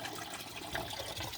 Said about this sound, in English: Get it all drained out here. You get the hose and flush that.